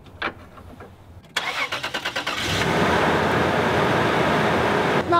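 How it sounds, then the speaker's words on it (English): A Toyota 4Runner engine with over 300,000 miles starts up, cranking briefly before catching and settling into a steady, loud, smooth idle close by, with no talking. "Listen to the engine. Check it out."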